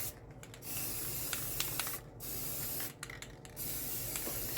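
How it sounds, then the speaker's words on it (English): Spray paint hisses in steady bursts onto a wooden craft piece as a primer coat, with a few brief pauses between the close, continuous sprays. "The first coating that I sprayed on that preserves the wood."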